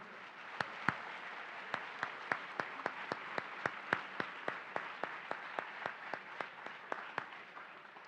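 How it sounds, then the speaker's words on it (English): At a Veterans Day ceremony, a crowd of about a thousand students claps for a classmate: fairly faint, steady applause with distinct sharp claps standing out in an even rhythm throughout. "So can I get a round of applause for Amelia Miller"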